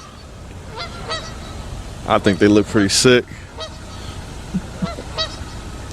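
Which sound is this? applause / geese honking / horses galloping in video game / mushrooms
geese honking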